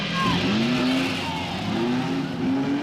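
Banger racing cars accelerating together at a race restart, a loud, continuous engine roar with rising revving tones from several cars, close and busy throughout.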